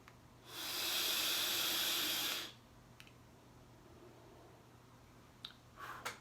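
Air drawn through a FreeMax Fireluke Mesh vape tank produces one loud, breathy hiss lasting about two seconds, followed by quiet with a few small clicks and a short, softer draw at the end.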